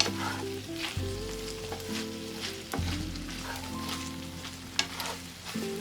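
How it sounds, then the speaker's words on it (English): Pork stir-frying in a pan: a continuous close sizzle with a low steady hum underneath and occasional scrapes and taps as the meat is pushed around, fairly quiet, with no talking. "I am just working this around in my pan a little bit"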